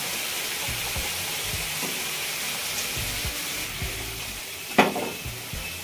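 Pieces of hilsa fish go one by one into hot oil in a wok, giving a continuous sizzle with a few soft knocks and a sharper clatter near the end, close and moderately loud, no talking.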